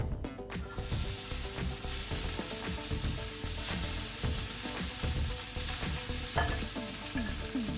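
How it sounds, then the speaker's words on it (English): Day-old rice frying in hot butter for egg fried rice, a loud, dense, continuous sizzle with crackling pops and occasional spatula scrapes and stirring clatter, no talk. "Once the butter gets nice and hot, you're going to add equal amounts of your 1-day-old rice to it"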